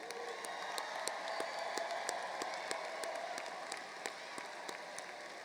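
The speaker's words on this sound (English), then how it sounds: "let us acknowledge the accomplishments of these distinguished graduates one more time with another round of hearty applause" Graduates are applauded at a spring graduate school commencement ceremony: soft, distant clapping from a large crowd, sustained and even, with a few sharper individual claps standing out.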